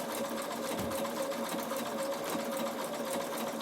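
A Bernina sewing machine runs steadily, stitching a triple zigzag through fabric at a slower pace, with a continuous even whirring hum and no pauses.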